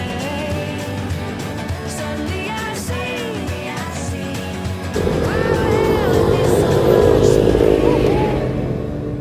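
A tractor engine idles and rumbles outdoors on a countryside hike, the low drone growing noticeably louder and fuller about halfway through and holding steady to the end.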